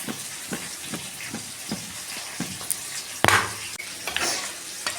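A utensil stirs tomato sauce into a batter of flour and cornflour for an egg recipe, with soft rhythmic scrapes and light sizzling, then one louder clatter partway through.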